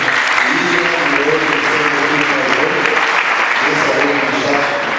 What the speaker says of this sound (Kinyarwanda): Imana amashyi cyane